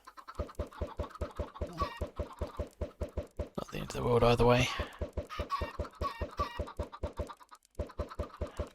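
Minecraft chickens on an egg farm clucking in short rhythmic repeated bursts, with one louder flurry midway, while someone talks quietly over them.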